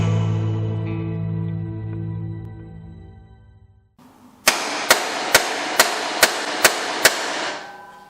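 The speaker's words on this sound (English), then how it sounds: "Heavy screwdriver, light hammer." Seven sharp metallic strikes in an even rhythm, a light hammer hitting a heavy screwdriver while working on a Suzuki GT200 motorcycle, close and loud after a stretch of low humming.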